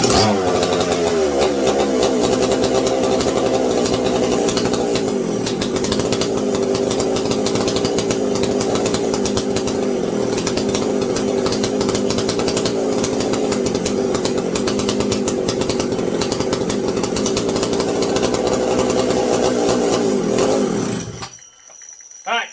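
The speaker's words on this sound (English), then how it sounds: "my CP125 is ready to get the choke taken off of it and fire over" A McCulloch SP125 chainsaw engine runs loud and close in one steady, continuous roar for about twenty seconds before cutting off abruptly.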